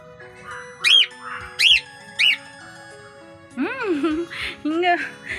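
Pet cockatiels in a home squawk and whistle up close, three sharp rising calls followed by a longer run of chattering screeches, with faint background hum.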